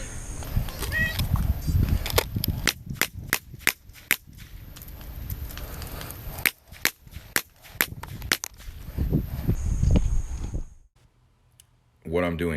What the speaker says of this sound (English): What I'm doing here is using a moon clip unloading tool.